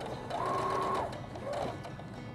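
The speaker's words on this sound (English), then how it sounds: "you'll just finish sewing over that opening" Sewing machine stitching over the opening of an elastic waistband, two quiet short runs of whirring motor with a pause between, fairly faint and close.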